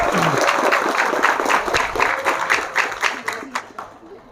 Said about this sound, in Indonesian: Tepuk tangan buat Sari, luar biasa